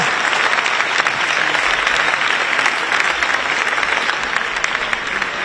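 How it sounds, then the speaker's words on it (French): Steady, dense applause from a large audience at an Olympic ceremony in Paris marking one year before the 2024 Games, filling the whole stretch at an even level. "Grand applaudissement."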